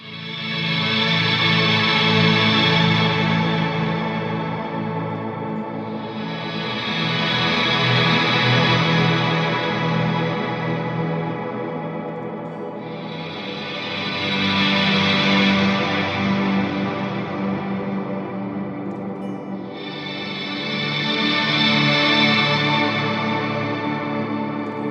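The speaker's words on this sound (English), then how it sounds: "So now I'm gonna add a shimmer-like patch on the Big Sky to kind of double this kind of sound and get it even more huge." An ambient electric guitar runs through a Strymon Big Sky reverb on a shimmer patch, giving loud, wide swelling washes with octave-up shimmer that rise and fade in slow waves over about 25 seconds, with no voices.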